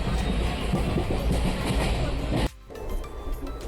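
The Tutari Express passenger train rumbles along the rails from Mumbai toward Konkan, a heavy, steady roar heard from inside the carriage that drops suddenly to a quieter rattle near the end.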